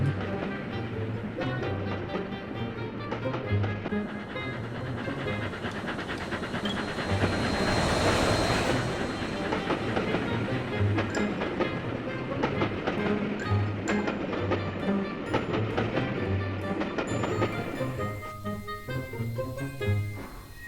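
A steam locomotive chuffs steadily in Garry's Mod, its rhythmic puffing and hiss mixed with clattering wheel beats and game sound, sustained throughout without voices.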